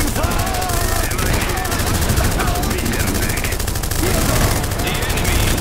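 Rapid gunfire and bursts of machine-gun fire in the video game Iron Harvest, a dense continuous barrage with a voice speaking over the battle.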